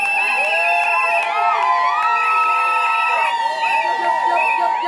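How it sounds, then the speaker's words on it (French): Women at a Gabonese customary wedding let out loud, sustained high-pitched ululating cries of joy, several voices overlapping continuously through the whole stretch. "Est-ce qu'elles peuvent pousser des cris de joie, les femmes font?"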